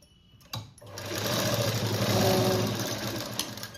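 A sewing machine stitches pleats into a puff sleeve, starting after a brief pause and running in a steady, close mechanical rattle for about three seconds before stopping.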